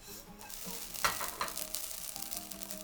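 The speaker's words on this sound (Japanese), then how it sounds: "この焼きそば麺を3分ほど炒めていきます。" Yakisoba noodles stir-frying in a pan, a quiet continuous sizzle broken by a few scraping stirs and light clatters, close and without any talk.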